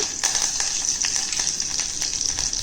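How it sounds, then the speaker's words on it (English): Cumin seeds and curry leaves sizzle steadily in hot oil, a constant bright hiss with scattered small pops and crackles throughout, close up and with no talking. "Soon as we drop in the jeera, it must flutter like this."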